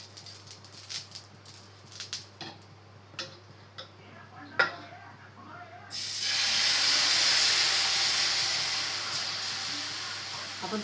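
Uttapam batter made from rava hits an oiled hot tawa with a sudden loud, broad sizzle that keeps hissing steadily, following a stretch of faint clicks and taps.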